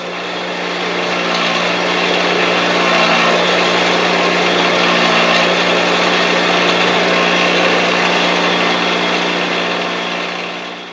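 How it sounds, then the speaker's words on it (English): A wire brush wheel scrubbing rust off bolt threads during a garden bench restoration, a loud steady whirring hiss with a constant motor drone that runs unbroken for about ten seconds, close and without speech. "Then we'll take it to the wire brush in there. Because the wire brush is going to clean up our threads"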